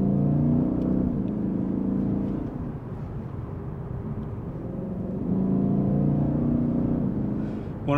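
A Lexus IS 500 F Sport's exhaust rumbles steadily up close, swelling louder twice as the engine is pushed, with no talking.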